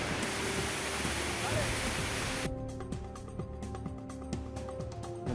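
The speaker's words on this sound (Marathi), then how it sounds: "पुरातन महादेव मंदिराजवळचा धबधबा पुन्हा प्रवाहित." Waterfall beside an ancient Mahadev temple runs again after heavy rain, giving a steady, dense rush of falling water that holds at a constant level throughout.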